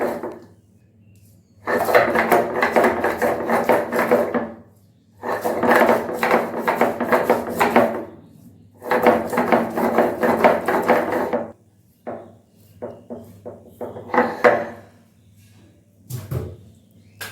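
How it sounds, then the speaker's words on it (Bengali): Ginger is ground by hand on a sil stone slab: three long bursts of rhythmic scraping strokes separated by pauses, followed by shorter, choppier grinding scrapes and taps, all close up. "আমি এইভাবে শিলেই বেটে নিচ্ছি আদাটা"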